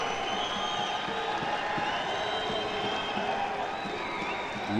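A crowd at a U-20 soccer match between the USA and Australia cheers and claps in a steady roar, with scattered whoops, fairly loud and broad with no clear talk.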